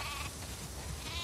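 Sheep bleat close by in The Last of Us Part 2, a short wavering call heard briefly on its own over low ambient noise.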